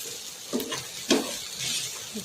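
Semolina mixture with grated potato and chopped green chilli sizzling in a pan while being stirred. A steady fry hiss runs under a couple of sharp scraping strokes, close and moderately loud.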